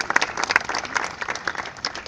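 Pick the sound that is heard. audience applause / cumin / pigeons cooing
audience applause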